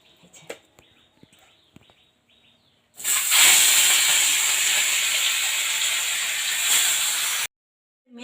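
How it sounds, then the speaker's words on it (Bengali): Fish pieces go into hot oil in a kadai: after a few quiet seconds of faint clicks and a distant bird, a loud, hissing sizzle bursts in, holds steady for about four seconds, then cuts off. "এরপর আমি মাছগুলো বরাবর ভেজে নেব।"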